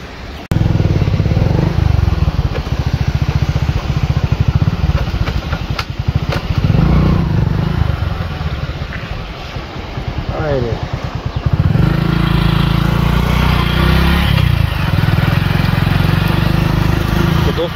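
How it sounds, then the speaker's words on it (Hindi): A motorcycle engine runs close by throughout, droning steadily with brief dips and surges as the bike rides along. "अपनी बाइक पर ही हमारा सफ़र रहेगा"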